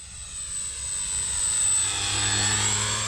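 A Carbon Cub S2 foam RC airplane flies overhead in light wind, its electric motor a thin, high whine that slowly swells and shifts in pitch as it passes at a moderate distance.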